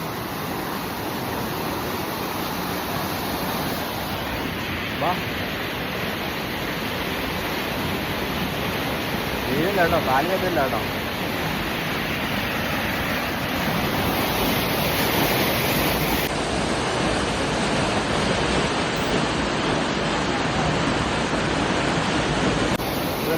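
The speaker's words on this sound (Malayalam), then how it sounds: "നല്ല മഴയൊക്കെ പെയ്തപ്പോഴേ നല്ല കണ്ണിനീര് പോലത്തെ വെള്ളം ഒഴുകുന്നുണ്ട്" A stream swollen after heavy rain runs in a constant broadband rush, close and steady, with no voices.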